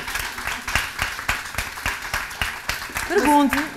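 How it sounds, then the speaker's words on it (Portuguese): An audience at a foundation gathering in a café gives steady applause, a fairly faint and even patter of many hands, with a voice speaking briefly near the end. "Esta merece uma salva de palmas."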